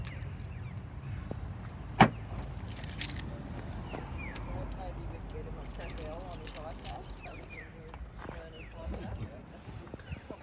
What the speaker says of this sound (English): I've got the key with me.